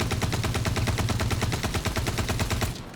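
Rapid automatic gunfire empties magazines in the Star Citizen video game, shown as a dense, loud, close burst of evenly spaced shots for nearly three seconds before it cuts off.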